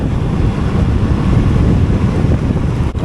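Loud, continuous low rumble of wind buffeting the microphone on a long ride, steady and unbroken throughout, with a brief dip near the end.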